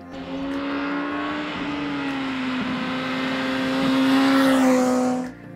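A 2020 MV Agusta Brutale 1000 RR motorcycle engine holding a loud, sustained high-revving drone that climbs slightly before cutting off abruptly, close and alone.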